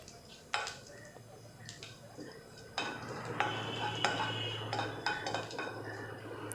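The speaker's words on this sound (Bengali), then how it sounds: "পাঁচফোড়নটাকে জাস্ট একটু ফ্রাই করে নেবো 30 সেকেন্ডস মতো" Panch phoron seeds frying in hot oil over a medium flame for tomato chutney, a soft sizzle under light clinks and scrapes of a utensil against the pan, with no one speaking.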